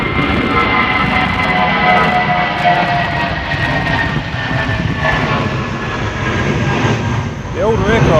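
Aircraft at London Gatwick Airport during Storm Bert, its engines a loud steady roar with a rising whine near the end, while people chat quietly underneath.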